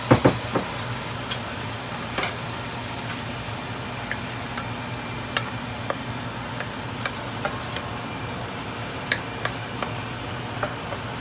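Jamaican pot roast frying in seasoning, a steady close sizzle and crackle with scattered sharp pops and a few louder clinks near the start, no voices.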